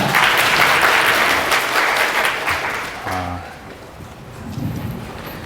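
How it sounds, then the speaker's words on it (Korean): Audience applause at a Python developer conference talk, loud and dense at first, then fading after about three seconds into a quieter room with some faint noise. "큰 박수 부탁드리겠습니다."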